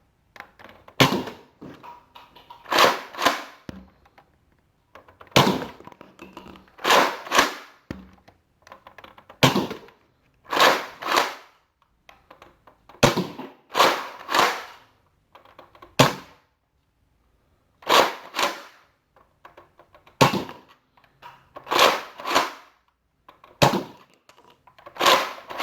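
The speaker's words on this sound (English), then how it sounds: "we'll put 10 rounds from the new Rotofury from the Mega series over the chrony and see what it does in stock standard form" Nerf Mega Rotofury blaster fired ten times over a chronograph, with sharp pneumatic pops and clunky priming and rotating mechanism noises repeating in clusters, close and crisp with quiet gaps between shots.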